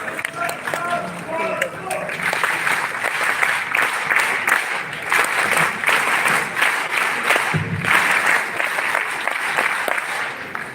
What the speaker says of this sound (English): Can we have a huge round of applause as we continue with the session?